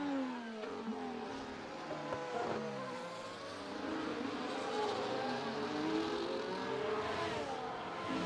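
Several race cars on a circuit in the F1 2024 racing game at the British GP practice session, engines droning and revving continuously with overlapping pitch sweeps, a steady moderate whine throughout.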